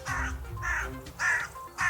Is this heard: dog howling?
no